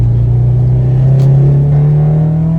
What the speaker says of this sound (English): They should have had an engine that sounded like this with this kind of feedback, with 300 horsepower, naturally aspirated